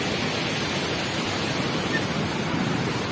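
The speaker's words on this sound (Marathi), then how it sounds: "लय जोरात जोरात पाणी वाहतंय." River water at full flood pours strongly over the Wagaj weir on the Nira river, a loud, steady roar of rushing water that fills the scene without pause.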